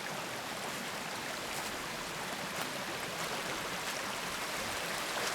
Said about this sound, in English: Look at that water flowing.